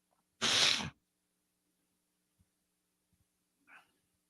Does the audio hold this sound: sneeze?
yes